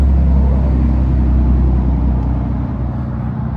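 A loud truck passing by in rural Alabama, its engine rumbling loudly and steadily nearby, a deep low roar that eases slightly toward the end.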